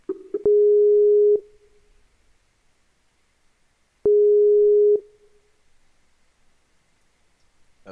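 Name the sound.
incoming Skype call ringing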